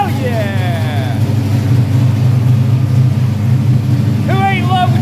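A car engine rumbles loudly and steadily at close range in a car shop, with excited voices calling out briefly at the start and again near the end.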